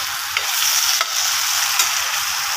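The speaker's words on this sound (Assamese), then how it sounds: "মছলাখিনি ভালকৈ ভাজি ল'ম" Spices fry and get stirred in a hot pan, a steady loud sizzle with a few sharp scraping strokes of the spoon, no voices.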